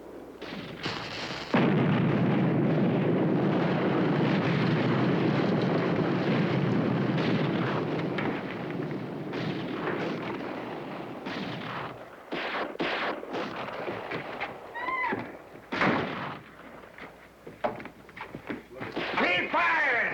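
Weapons firing in a battle, a loud sustained roar of artillery and gunfire at first, then scattered sharp shots and bursts as voices shout over the fighting.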